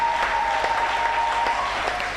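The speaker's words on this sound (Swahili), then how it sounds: "makofi kwa Bwana Yesu, makofi mengi sana" A church congregation applauds in a dense, steady wash of clapping that holds at an even level throughout, with a faint sustained tone underneath.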